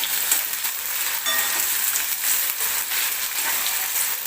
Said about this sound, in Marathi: सोबतच मी हिरवी मिरचीसुद्धा टाकून घेते, म्हणजे तीसुद्धा बटाट्यासोबत व्यवस्थित भाजली जाते